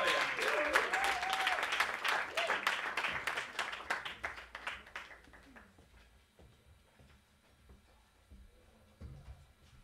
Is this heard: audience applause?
yes